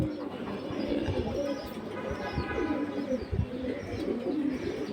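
Large, heavy-bodied pigeons at a market stall, among breeds like silver, khaki and aluminium, coo softly in a steady murmur with scattered chirps, a continuous near flock sound over background noise.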